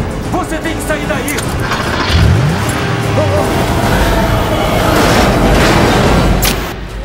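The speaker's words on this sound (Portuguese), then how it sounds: "O ônibus foi parar em cima daquele Porsche!" In a film's tornado scene, a bus crashes down onto a Porsche amid loud roaring wind, with heavy booming impacts, rumbling debris and metallic clatter, and voices sound beneath the chaos.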